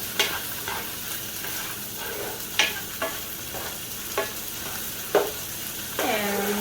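Vegetables fry in a pan for fried rice with a soft, continuous sizzle, broken by several sharp scrapes and taps of a utensil stirring them, and a louder clatter near the end.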